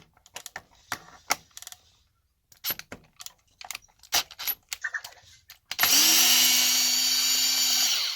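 A small power screwdriver takes screws out of the center differential of a Traxxas Maxx RC truck, heard as scattered clicks and clatters close by, followed by one sustained whirring run of the driver at the end.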